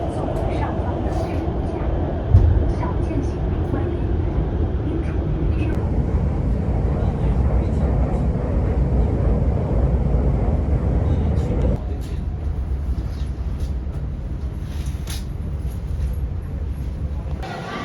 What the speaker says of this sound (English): Okay, that was the train.